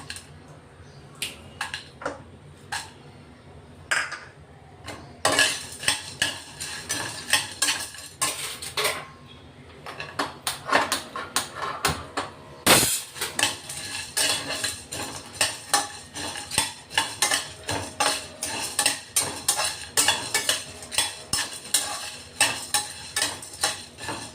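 Coriander seeds dry-roasting in a pan, stirred with a metal spoon that scrapes and clinks repeatedly against the pan in a busy, irregular rhythm, close and fairly loud, with a faint sizzle underneath.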